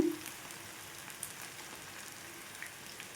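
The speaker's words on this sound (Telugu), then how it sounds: "ఇప్పుడైతే వేసేసుకొని మంచి గోల్డెన్ కలర్ వచ్చేంత వరకు అయితే వేయించుకోవాలి" Maida pakoda batter frying in hot oil in a pan, a soft steady sizzle with faint crackles and pops, quiet and continuous with no talking.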